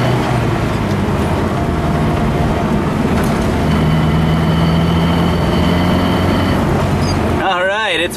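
A gasifier-powered truck engine drones steadily while driving, a loud, even low rumble with sustained tonal whine through most of the stretch, ending in a brief warbling shift.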